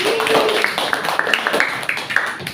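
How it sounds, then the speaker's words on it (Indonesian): A classroom group claps together, a loose patter of hands with sharper individual claps standing out, moderately loud and continuous throughout. "Tepuk tangan untuk kita semua yang hebat-hebat."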